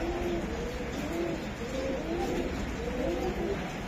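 A male racing pigeon cooing up close: repeated soft, low throaty coos over a constant wash of background noise, with no voices.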